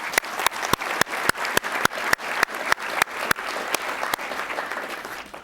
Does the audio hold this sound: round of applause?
yes